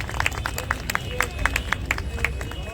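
Audience at a Bait Bazi session in Lucknow clapping to welcome two judges, a thin scattered patter of claps over a low murmur of the room.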